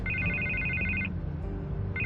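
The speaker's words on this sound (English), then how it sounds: "I can't get the phone to stop ringing." A telephone rings in the Batman Telltale video game, a repeating electronic double-tone ring that stops partway through and starts again at the end, loud and clear over a low steady game background with no talk.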